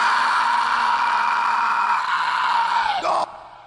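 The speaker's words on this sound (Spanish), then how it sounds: "Este grito que está acá." Recorded scream in a song being mixed, one loud sustained cry holding steady, then dropping and breaking off abruptly near the end.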